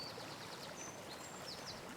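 A babbling brook runs beside a grassy bank near a bridge, a soft steady wash of flowing water with faint bird chirps above it. It sounds quiet and distant throughout.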